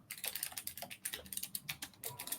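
Rapid clicky typing on a Vissel mechanical keyboard, a dense run of soft but bright key clacks with an uneven rhythm, close and steady throughout with no talking.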